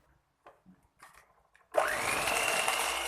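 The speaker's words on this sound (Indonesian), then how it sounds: "Selanjutnya masukkan 1 saset coklatos rasa coklat, lalu mixer kembali adonannya." An electric hand mixer switches on and whirs steadily through chocolate cake batter, loud and continuous after a few soft clinks.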